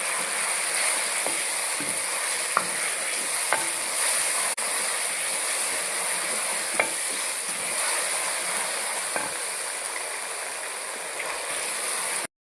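Ginger-garlic and green chili paste fry in oil with cumin, giving a constant bright sizzle with scattered small spoon clicks and stirring taps throughout.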